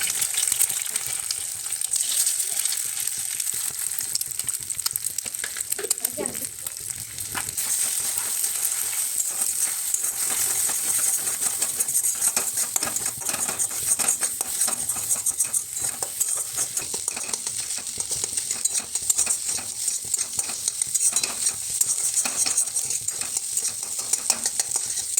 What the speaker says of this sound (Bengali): কড়াইয়ে একটু তেল গরম করে দুটো ডিমকে ভেজে নিতে হবে লবণ হলুদ দিয়ে।